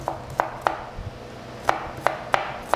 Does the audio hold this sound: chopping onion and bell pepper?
yes